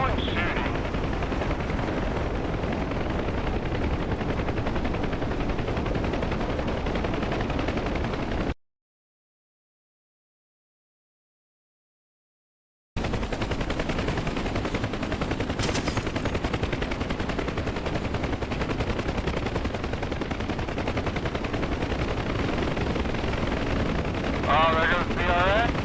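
Sustained gunfire in the combat flight game DCS World, a continuous loud rattle of machine-gun and artillery-like shots that drops out briefly to silence midway, then resumes, with voices talking over it.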